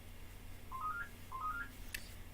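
A telephone sounds two short rising electronic tone sequences, one after the other, faint and alone against a quiet background hum, followed by a brief higher chirp.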